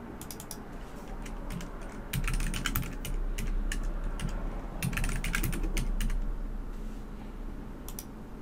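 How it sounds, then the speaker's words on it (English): Steady clicking of a computer keyboard as a password is typed on a Windows 10 PC, close and fairly quiet, with quick bursts of keystrokes over a faint hum. "type the actual password for your Microsoft account"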